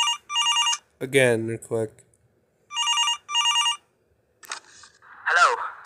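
Phone in the Five Nights At Boscos mobile fan game ringing in repeated electronic bell bursts, two pairs of rings separated by someone talking close by.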